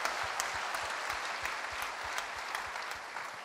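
A church congregation at a Sunday anointing prayer service applauds in praise to God, steady sustained clapping from many hands with a faint rhythmic low beat beneath, moderately distant.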